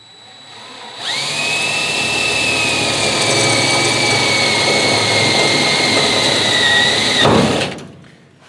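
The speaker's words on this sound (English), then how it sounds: "Now I'm going to drill through." A power drill drills through material: a short ramp-up, then a steady high whine for about six seconds, ending in a louder burst as the bit breaks through before the motor stops.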